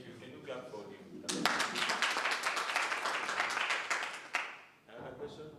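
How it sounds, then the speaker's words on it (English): An audience claps for a participant at a Franco-Anglo exchange program, a burst of applause starting abruptly and running for about three seconds, with talking before and after it. "Can you clap for him?"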